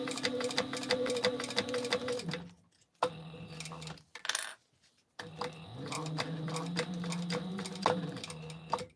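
A sewing machine runs in close, steady bursts of stitching while a Sallie Tomato Phlox wristlet with TPU is sewn, stopping briefly twice before whirring on again.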